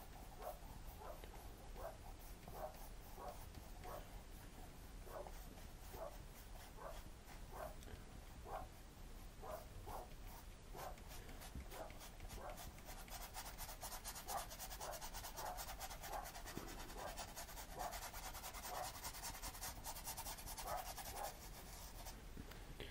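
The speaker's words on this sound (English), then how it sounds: "I don't know if you can hear Molly barking, but she's making a bit of a racket" A dog barks repeatedly outside at a distance, a long series of evenly spaced barks, faint beneath close scraping and rubbing sounds of acrylic landscape painting.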